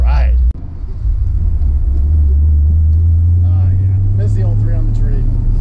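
A 1950 Ford shoebox with a three-on-the-tree column shift and electronic ignition: a faint click, then the engine rumbles up into a deep, loud, steady idle as it pulls away. A voice speaks briefly near the end.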